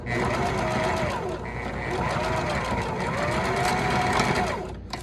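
A sewing machine stitches a single basting layer on a ladies' wallet, a steady close motor whir running continuously for about five seconds before stopping.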